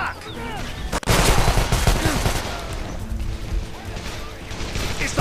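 Gunfire in the shooter game Call of Juarez The Cartel, with dense bursts of shots, crashes and mechanical clatter rolling on without pause, loud and chaotic, with voices mixed faintly into the action.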